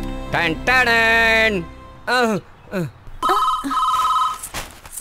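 Speech in Hindi alternates with electronic telephone ringing, a tonal ring that sounds in short bursts between stretches of talk, close and fairly loud.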